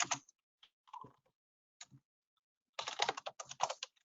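Clicky computer keyboard typing, close and clear: a few scattered keystrokes, then a quick burst of rapid taps, with no talking.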